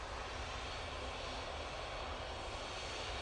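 The engines of a Boeing 737 MAX 8 jet run as a steady, broad roar, constant and moderately distant with no voices over it, ending with a brief sharp click.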